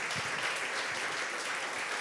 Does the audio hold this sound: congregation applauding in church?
yes